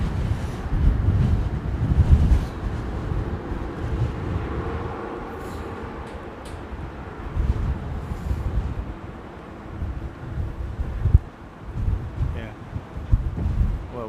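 Strong wind gusts buffet the microphone at London Heathrow Airport, a rough low rumble that swells and fades unevenly across the whole stretch.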